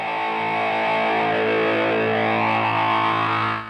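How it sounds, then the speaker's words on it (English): A sustained electric guitar chord heavily distorted by a Big Muff Pi, through a wah pedal fixed in one position, rings out with a nasal, boosted midrange tone, fading slightly at the end. "using a wah-wah pedal as a fixed filter frequency boost is usually referred to as a cocked wah"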